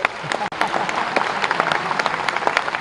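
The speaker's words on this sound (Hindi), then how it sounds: "तालियां बजे तो ढंग से बजे," Steady applause from a conference audience at the SC-ST Business Conclave and Expo in Indore, many hands clapping densely and continuously at moderate loudness, with a brief dip near the start.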